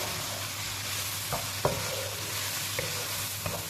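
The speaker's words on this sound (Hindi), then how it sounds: "इस सारे मसाले को अच्छे से मिक्स कर लेंगे" Turmeric, red chilli and other spices being stirred together in a sizzling pan for a chicken and ridge gourd curry, steady frying hiss with a few soft scrapes and taps of the spoon.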